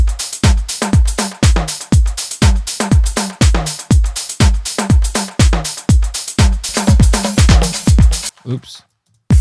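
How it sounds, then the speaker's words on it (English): A punchy electronic house drum pattern with a steady kick and crisp hi-hats, playing loud and even before cutting off abruptly near the end. "So let's check the drums."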